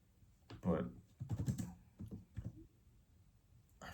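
Keys on a computer keyboard being typed in short, uneven clusters of soft clicks, fairly quiet and close, with faint voice-like murmurs in the background.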